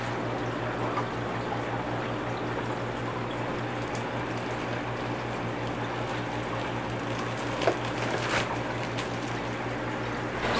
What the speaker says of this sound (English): I'm just going to go ahead and pull this filter media out and get it down inside the bucket.